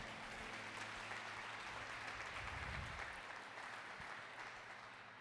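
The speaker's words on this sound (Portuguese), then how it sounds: "Dê uma salva de palmas a ele bem forte" Church congregation giving loud applause, a dense, even roar of many hands heard from a distance, quiet overall and steady throughout without speech standing out.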